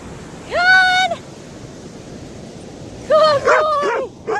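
A collie barks outdoors near surf, giving one loud drawn-out bark and then a burst of several barks and yips a few seconds later over a steady wash of waves.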